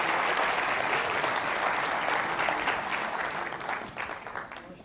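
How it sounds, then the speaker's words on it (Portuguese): Audience applause for a speaker at a legislative-assembly talk, a steady dense wash of many hands clapping that holds strong and then slowly thins and fades toward the end, with no talk over it. "pedir uma salva de palmas aqui para o nosso Reiniosi Cuquier"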